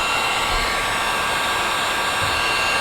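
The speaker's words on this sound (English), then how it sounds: "So just hit it with the heat gun again." A heat gun blows a steady, loud, unbroken stream of hot air onto a plastic downspout being softened for bending, with no talk over it.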